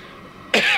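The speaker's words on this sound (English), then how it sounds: "everybody in the kitchen can't stop coughing" A person in a kitchen coughs on chili fumes: a sudden, loud, close burst of coughing and throat-clearing breaks in after a quiet stretch.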